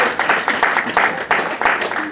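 Gala night audience applause for a guest of honour, a dense patter of many hands clapping at moderate volume, steady throughout with slight swells.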